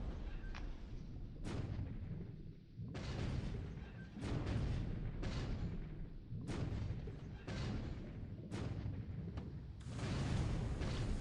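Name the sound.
naval gunfire and explosions in War in the Pacific video game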